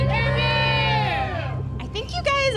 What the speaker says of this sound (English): I think you might be the best crowd yet. You're definitely the loudest.